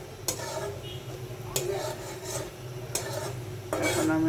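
A spatula stirs garlic and panch phoron frying in a pan for a sweet and sour pickle, with four sharp scrapes against the pan spaced about a second and a half apart over a steady low sizzle.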